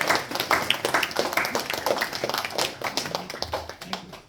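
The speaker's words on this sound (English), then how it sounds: "Jai, give a round of applause." Brief round of applause from a small gathering at a Bhakti Vriksha devotional meeting, a few hands clapping in loose, uneven bursts for about four seconds at moderate volume with light background noise.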